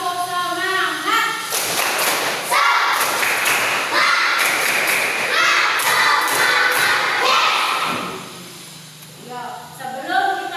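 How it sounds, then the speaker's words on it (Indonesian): Classroom children perform a rhythmic spirit clap, bursts of loud group claps and thuds alternating with a teacher's voice and children chanting and shouting along. "kita tepuk semangat dulu"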